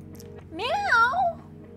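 A kitten gives a single drawn-out meow close by, rising and then falling in pitch, set against a quiet room.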